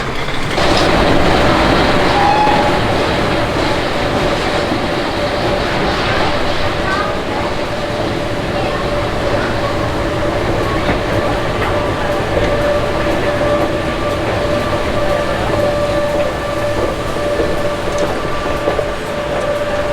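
A train rumbles and rattles steadily at Ghent St. Peters station, with a faint high squeal and people talking in the background.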